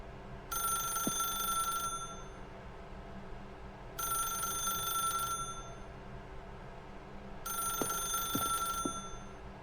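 A telephone in The Stanley Parable rings three times in long, evenly spaced bell bursts, clear and steady, with a low ambient hum and faint clicks between the rings.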